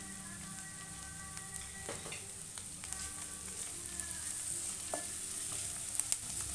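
Ginger garlic paste frying with onions in a pan for a paneer vegetable kurma, a steady close sizzle with occasional stirring scrapes, no talking.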